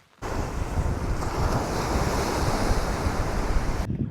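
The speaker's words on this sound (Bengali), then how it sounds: "এত সুন্দর সমুদ্র সৈকত আছে।" Sea waves roll onto Bakkhali beach in a constant loud roar of surf, with heavy wind buffeting the microphone throughout and no voices.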